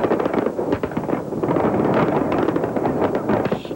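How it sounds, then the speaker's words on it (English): Fireworks burst over downtown Pittsburgh during the 1987 Light Up Night celebration, a dense, continuous crackle of rapid bursts and booms with no voices over it. "fireworks lighting up the night sky for Light Up Night"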